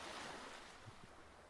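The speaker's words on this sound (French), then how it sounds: "Écoutez les vagues." Ocean surf washes steadily against the shore, a continuous soft roar of breaking waves with some wind noise, heard alone without voices.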